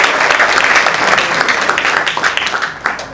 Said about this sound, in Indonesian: Boleh tepuk tangan dulu ya.